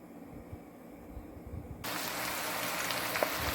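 Mutton pieces dropped into a pot of hot curry, a quiet background suddenly jumping to a loud, steady sizzling hiss that continues without a break.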